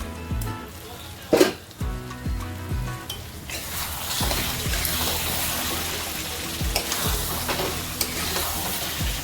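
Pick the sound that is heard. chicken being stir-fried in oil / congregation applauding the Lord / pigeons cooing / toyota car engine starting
chicken being stir-fried in oil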